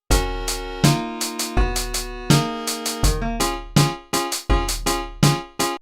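Mario Paint piano part for a song remake, loud chiptune keys hammering out bright chords in a choppy, repeating syncopated rhythm with clean sharp attacks and no voices.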